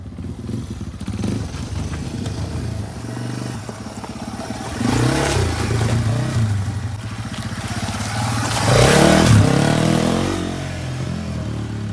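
A Yamaha TW200 dual-sport motorcycle rides through desert hills, its engine droning steadily and rising in two louder revving surges, with loose clatter throughout and no talking.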